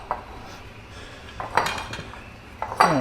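Serving bowls and dishes clink and knock together in a kitchen while pasta carbonara is being made, with a few sharp clinks separated by quiet gaps.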